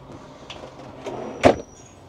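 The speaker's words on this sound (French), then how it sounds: "un tiroir." A kitchen drawer in an Itineo PF600 camper van slides open with a soft rolling sound and ends in a sharp clack near the end.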